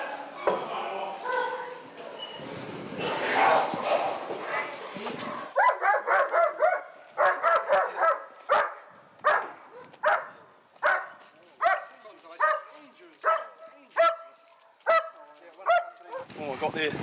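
A police dog barks repeatedly during a burglary suspect's arrest, loud sharp barks in a steady rhythm after a few seconds of muffled talk and movement, with voices at the start and end.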